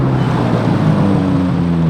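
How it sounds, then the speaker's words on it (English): A deep, steady Corvette Z06 engine rumble holds a low droning tone throughout, loud and close as the car arrives. "this sounds like a Z06 coming in right now"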